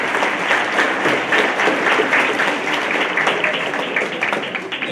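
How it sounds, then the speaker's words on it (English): An audience at a high school Christmas choir concert applauds the choir students, a full, lively round of clapping with individual claps standing out, fairly close and loud. "So give these students a round of applause."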